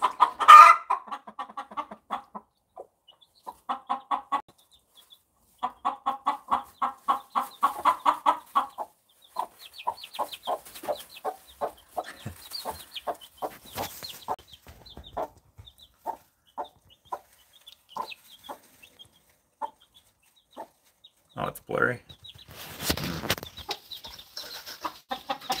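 Hens clucking and cackling in a coop, a mother hen with her small chick nearby, with repeated bursts of close, moderately loud clucks and a brief louder flurry near the end.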